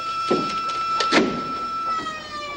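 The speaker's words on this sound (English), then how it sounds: "That is the fire alarm, Mr. Douglas." A fire alarm rings with steady, shrill electronic tones that run continuously from start to finish, loud and close, while a couple of brief thuds or knocks sound over it.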